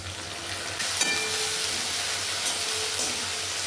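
Onions fry in a pan for a potato chicken curry, and ginger, garlic and green chilli paste goes in, giving a loud, steady sizzle that surges sharply as the paste hits the oil.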